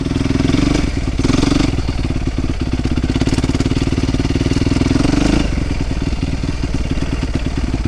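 A rebuilt Yamaha YZ450F dirt bike with Hotcams fitted runs loud and close. Its single-cylinder engine pops unevenly at idle, climbs and sustains a high rev, drops back, and then rises steadily again.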